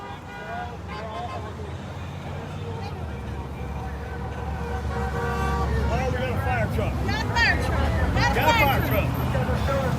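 Truck horns toot repeatedly over rumbling traffic and a crowd's babble at a roadside Back the Blue rally, growing louder as trucks pass close by.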